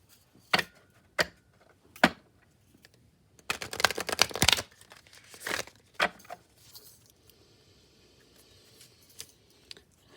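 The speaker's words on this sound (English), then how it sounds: "I am going to go ahead and do a hard shuffle here on the table." Tarot cards get a hard shuffle on a tabletop: a few sharp, separate taps, then a dense burst of rapid riffling clicks in the middle, followed by scattered softer knocks and a quiet, faintly hissing stretch. No one speaks.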